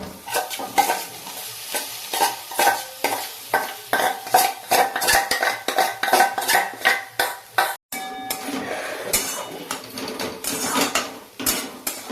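Spatula scraping and stirring in a pan as cauliflower florets go into sizzling spices with turmeric and chili powder, a steady rhythmic clatter of utensil on metal over frying crackle, with a brief pause partway through.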